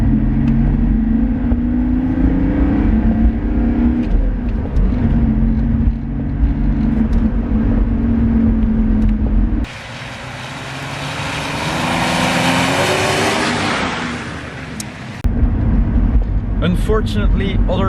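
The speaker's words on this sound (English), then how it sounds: "it gives you a lot of time to enjoy the beautiful 6-cylinder diesel roaring away at" Six-cylinder diesel engine of a Volvo 240 droning steadily at low road speed from inside the cabin, loud and continuous, with a brief broadband rush partway through before the engine note returns.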